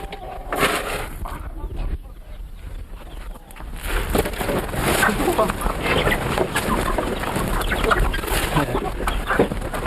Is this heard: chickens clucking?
yes